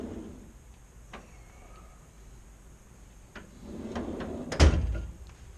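A bottom drawer yanked open while rummaging for a tool, a single sharp knock-and-slide near the end after a few faint handling clunks, close by with no talking.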